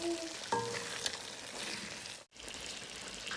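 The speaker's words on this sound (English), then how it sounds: "The paste has been reduced after further cooking, and we're going to keep stirring it." Black pepper chicken karahi paste sizzles in a pan as it is stirred, a soft close frying hiss with a few clinks and a brief drop out near the end.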